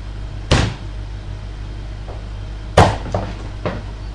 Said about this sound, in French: on va déjà lui couper aussi le bout de cou qui dépasse